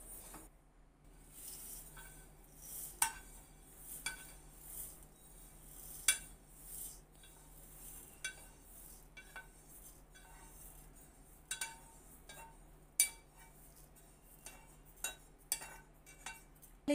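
Roasted sesame seeds are scraped from a pan into a dish, giving scattered light clinks and taps of utensil on metal and ceramic in an otherwise quiet kitchen.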